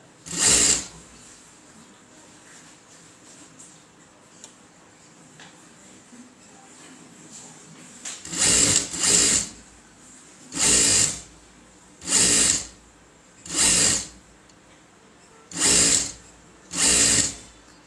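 A sewing machine with a single foot stitches blouse thread piping in short, loud bursts of rapid whirring, one at the start, then a quiet stretch before six evenly spaced runs close by.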